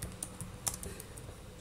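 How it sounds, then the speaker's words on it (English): Quick, light keystrokes tap on a computer keyboard at an irregular pace, faint and close, with nothing else audible. "So I'm typing the device manager."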